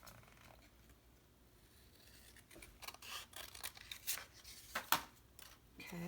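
Scissors cut through paper for a geometric chicken craft, with a run of quiet snips and crisp slicing sounds close by that grow busier toward the end.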